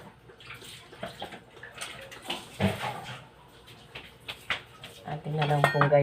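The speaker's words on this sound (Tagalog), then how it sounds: "Atin po muna hugasan natin ang luya." Fresh ginger being rinsed in water for a Filipino tilapia adobo, with splashing and clattering of a bowl and utensils, growing busier and louder toward the end.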